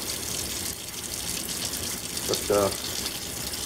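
Tap water runs in a steady broadband wash while tree bark is rinsed at a sink, with a brief voice speaking near the end.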